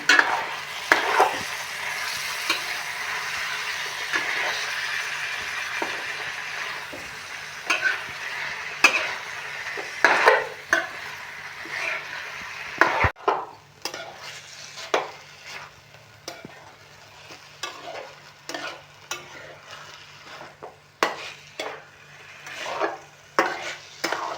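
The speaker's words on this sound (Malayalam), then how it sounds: "നന്നായിട്ട് ഇളക്കി യോജിപ്പിക്കുക." Chicken pieces being stirred into masala in a pan for a chicken stew, a soft sizzle under repeated close scrapes and knocks of a spoon against the pan.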